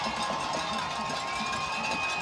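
Crowd noise at a high school football game between Salmen and Pearl River, a brief steady wash of distant cheering and yelling from the stands.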